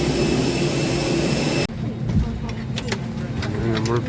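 Loud, steady broadband roar of jet engines fills a passenger aircraft cabin during flight, then suddenly drops to a softer drone with scattered clicks and faint voices.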